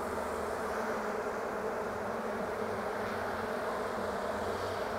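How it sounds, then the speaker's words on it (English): Honey bees buzz continuously in a dense, steady drone, close and even, with no voices. "There's quite a few bees on the lid."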